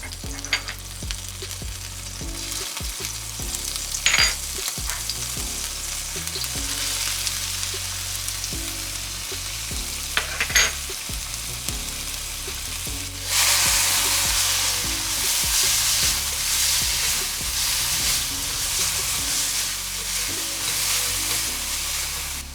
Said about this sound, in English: I'm gonna start with sauteing the garlic, the ginger, and the green onions